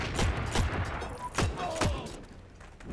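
Rapid gunfire bursts from a Heroes and Generals firefight, several sharp shots in quick succession over a continuous battle din, loud and close.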